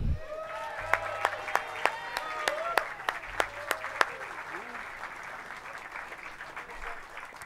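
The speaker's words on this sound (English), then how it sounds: "let's give a round of applause for Walk of Famer Chuck Lorre" Scattered applause from an outdoor audience at a Hollywood Walk of Fame ceremony for Chuck Lorre, with sharp claps for the first few seconds before fading into a quieter background hum.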